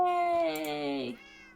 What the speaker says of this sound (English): Can confirm your cats are still catting.